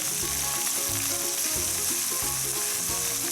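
Mushrooms frying in a pan for beef stroganoff make a loud, unbroken sizzle, with a repeating tonal hum running underneath.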